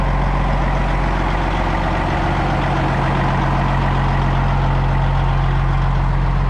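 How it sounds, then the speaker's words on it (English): A heavy work truck with a large claw boom on the back idles nearby, its deep engine rumbling loud and steady throughout with no speech. "This is our truck for today."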